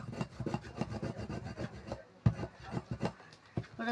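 A small glass is rubbed back and forth over something, giving a quick run of gritty scraping strokes, close and fairly quiet, with no voices.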